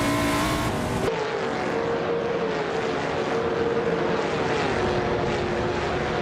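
Race cars in a racing video game, including a 1971 Plymouth Roadrunner, a loud continuous engine roar with rising and falling tonal whines, after a brief abrupt cut near the start.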